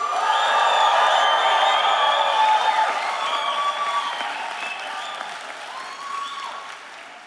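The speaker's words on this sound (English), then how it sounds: "let me hear an even bigger cheer" Graduation ceremony crowd at a university convocation, loud sustained applause mixed with cheering and whoops that peaks early and slowly tapers over seven seconds.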